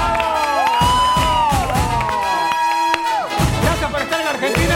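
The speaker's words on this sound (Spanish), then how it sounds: "fuerte el aplauso" A studio audience on a television gossip show cheers and applauds, with loud crowd shouting and whoops, over music, a continuous noisy swell filling the scene.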